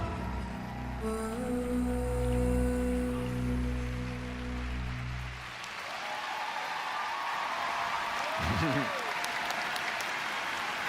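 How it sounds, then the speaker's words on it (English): Sustained music fades out and is replaced by a broad wash of applause from a large crowd in an echoing ice rink arena during a figure skating pairs free skate competition. "Drew Meekins, their coach, applauds ringside"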